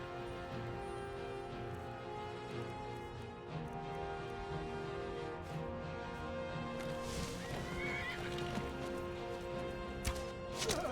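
A horse in Skyrim whinnies and neighs repeatedly amid clip-clop hooves and combat thuds, with game music underneath and a sharp crash near the end.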